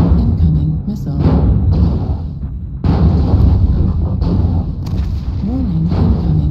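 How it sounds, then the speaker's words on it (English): Missile strikes land in the MechWarrior Online game as repeated booming impacts and rumbling blasts, loud and close, with a short break partway through, laid over busy battle noise and synthetic cockpit warning voices. "Warning incoming missile."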